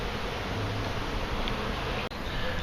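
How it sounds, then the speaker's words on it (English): Honey bees buzz in a continuous dense hum during a bee removal in Boynton Beach. The swarm drones steadily and quite close, with a faint rustle and no speech. "Look at all these bees."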